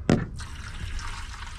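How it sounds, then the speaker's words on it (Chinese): Water pouring into a basin from a bucket at a camper van stop: a brief loud splash at the start, then a steady low trickling wash of liquid that continues quietly to the end. "刚倒水啊"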